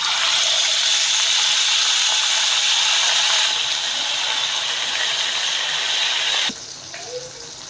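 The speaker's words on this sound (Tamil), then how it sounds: "எண்ணெய் காஞ்சிருச்சு. இப்போ நம்ம மீனை ஒன்று ஒன்றா சேர்க்கலாம்." Fish pieces fry in hot oil in a kadai, a dense, steady sizzle and crackle that fills the scene, then drops noticeably quieter near the end.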